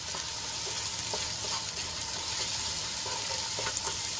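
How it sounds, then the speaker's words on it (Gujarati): Onions sauté under a lid in a pan, making a steady soft sizzle with faint bubbling and small occasional clicks, close and continuous with no talking. "તો ડુંગળીને આપણે ઢાંકીને સંતળાવા દઈશું"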